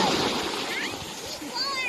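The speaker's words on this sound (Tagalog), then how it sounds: "Napakaganda ng alon." Sea waves washing onto a sandy beach after a night of heavy rain, a steady close rush of surf and splashing water with brief faint whistling tones over it.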